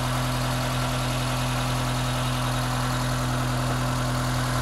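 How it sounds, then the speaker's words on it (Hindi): A 2015 Suzuki Cultus inline four-cylinder engine idles with a steady, even hum and constant drone, recorded close and unchanging throughout. "इनलाइन 4 सिलेंडर इंजन है ये।"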